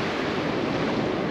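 Surf at Kumimi Beach on Moloka'i's eastern shore: a steady, close wash of waves over rushing wind noise for just over a second, with no voices.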